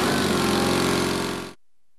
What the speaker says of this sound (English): Start and operate the engine at high idle.